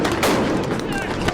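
Police fire rubber bullets and sound bombs at protesters in Bahrain, loud, dense blasts and bangs overlapping in a noisy street scene, with voices mixed into the din.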